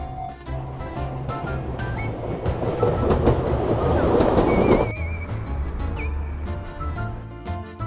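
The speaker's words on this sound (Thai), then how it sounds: "เฮ้ยรถไฟมาก่อน" A train rumbles into a station in Japan's Mount Fuji area with clattering wheels that build to a loud rush, then ease off with squealing brakes and a faint tone.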